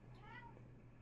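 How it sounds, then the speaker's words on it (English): A house cat lets out a single short meow, fairly close, over a steady low background hum. "Sorry about the cat."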